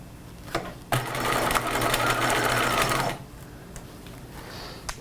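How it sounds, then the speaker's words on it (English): Sewing machine stitching a cropped retro jacket's shoulder seam with the bodice front up, a steady whirring run of about two seconds starting and stopping abruptly, close and loud against a quiet room. "So next thing we'll do is go over to the machine and sew it."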